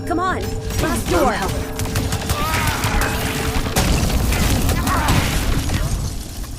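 Explosions and gunfire from the video game Flashback 2 roar in a loud, continuous barrage of booms, crashes and shattering debris, with sharp bursts throughout and speech mixed into the din.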